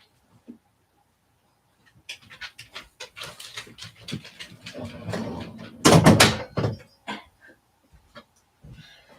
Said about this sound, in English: I know you're my heart dog, but you're being loud right now